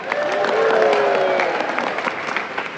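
An aquarium show audience at Shedd Aquarium breaks into brief, bright applause with a few cheers, filling the hall evenly before tapering off.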